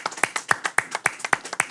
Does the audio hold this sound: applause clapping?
yes